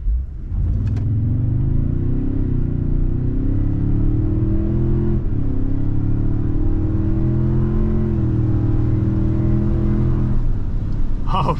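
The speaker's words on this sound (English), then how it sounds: "we're gonna take off from a standstill and see what it sounds like" A 2023 Toyota Tundra Capstone 4x4 with the i-Force Max powertrain pulls away from a standstill, its engine note droning loud and steady and rising gradually in pitch through the run.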